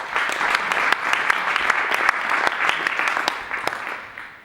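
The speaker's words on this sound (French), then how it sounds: "je pense que ça mérite des applaudissements" An audience at a women's rights day event applauds steadily, a dense sustained clapping with sharp individual claps standing out before it gradually fades.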